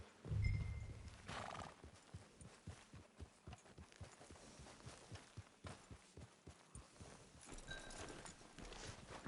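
Hooves clip-clop at a steady walking pace in a PS4 video game, with a horse's whinny near the start, over soft ambient background.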